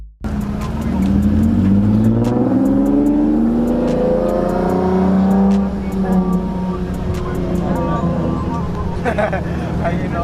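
A car engine revs up at a drift meet with rising, gear-changing pitch, loud and close, with sharp clicks and crackles on top; a voice speaks briefly near the end.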